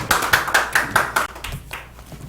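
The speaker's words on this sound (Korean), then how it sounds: "박수!" A congregation claps hands in a steady rhythmic beat, about six sharp claps in a row before the clapping breaks up into softer scattered claps.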